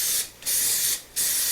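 Cooking spray hisses onto muffin tins in three close, loud bursts, the first cut off at the start, with short pauses between them.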